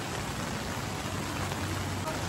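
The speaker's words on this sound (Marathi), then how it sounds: "खूप जोरात पाऊस पडत आहे" Heavy rain pours down in a dense, steady hiss, drumming on surfaces close by without a break, in Mahabaleshwar, Maharashtra.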